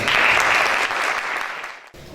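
An audience claps loudly, a dense burst of applause that gradually thins out and fades over a couple of seconds.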